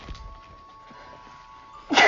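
A single sharp sneeze bursts out near the end, loud and close, after a stretch of quiet room tone and faint background murmur during a tabletop role-playing game session.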